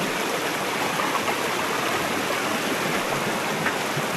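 Steady broadband rush of the Dubaka River flowing over rocks, close and loud, with no voices.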